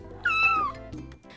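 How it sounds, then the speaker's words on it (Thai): A cat gives one clear, close meow that rises and falls, followed by a few soft rustling sounds, with no talking over it. "เจ้าเหมียวค่ะ"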